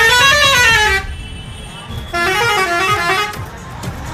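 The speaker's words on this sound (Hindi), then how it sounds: "ये सुबह सुबह जो ट्रक जा रहा है, सब हॉर्न बजाते हुए।" Passing truck's horn honking loudly on an early-morning roadside, a long blaring tone, a short pause, then a second long blast, with traffic rumble underneath.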